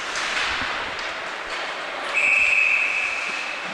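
Referee's whistle at a junior varsity ice hockey game: one sharp, sustained shrill blast of about a second cuts through loud, steady arena crowd noise.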